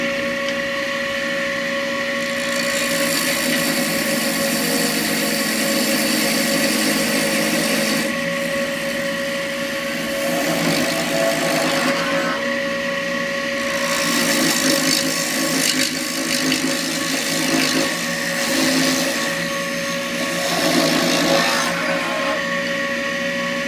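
A wood lathe turns tenons on chair rungs, a steady motor hum under scraping chisel cuts that rise and fall in short bursts, close and fairly loud throughout with no talking.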